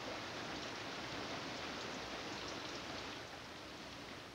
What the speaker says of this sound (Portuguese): a chuva ácida.